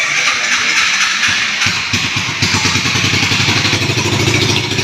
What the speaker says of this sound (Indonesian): di sini mobilnya juga menggunakan electric starter, tidak perlu diengkol-engkol dari belakang, tinggal duduk dan starter